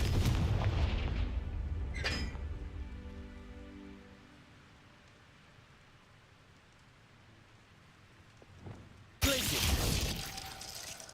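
Confringo blasting-spell explosions in the wizarding game Hogwarts Legacy: a heavy booming blast at the start, a sharp crackling burst, a fading rumble, then another loud explosive impact near the end.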